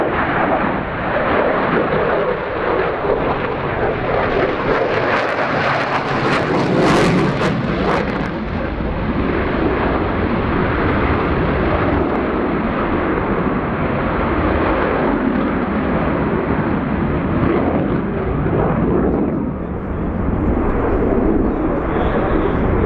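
A Belgian Air Force F-16 flies its display at an air show, its jet engine a loud, continuous roar that surges around the middle of the pass before settling into a sustained, rumbling blast.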